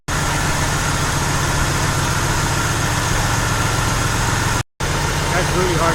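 A car engine idling steadily during a timing check, with a continuous loud low hum and a brief cut near the end.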